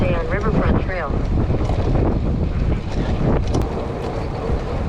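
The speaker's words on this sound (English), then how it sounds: "The wind makes a huge difference." Heavy wind roar buffets the microphone during a bicycle ride on a riverfront trail aboard a Trek Domane AL 2, loud and constant throughout, with a voice speaking briefly beneath it.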